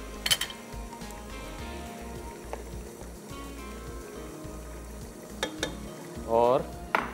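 Tomato and onion puree masala frying in a pan, stirred for haree bhare kofta chanay, a steady close sizzle with scraping spoon strokes and a few sharper clinks, no speech.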